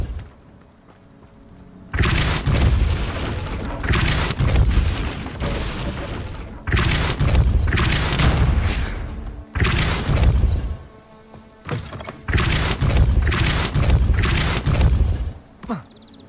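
Depulso spell blasts in the Hogwarts Legacy video game, a series of loud booming bursts, each lasting a second or two, separated by brief quieter gaps over an ambient background.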